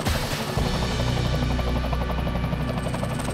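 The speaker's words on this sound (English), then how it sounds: "because the helicopter is very nice and smooth, we don't get any G-forces in a helicopter" A helicopter in flight, heard from inside as a steady, dense rotor and engine drone that stays loud and unbroken throughout, with no talking.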